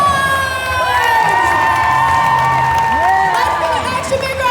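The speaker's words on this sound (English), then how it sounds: "Let's give a big round of applause!" A loud, dense crowd at a high school homecoming assembly cheers, shouts and whoops continuously, with scattered clapping mixed in and shrill high voices rising above the roar.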